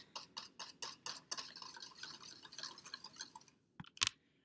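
A spoon stirs a chocolate Nutella ice cream base in a bowl, giving a run of quick, close scraping and clinking strokes in a steady rhythm that pauses near the end before a couple of sharper knocks.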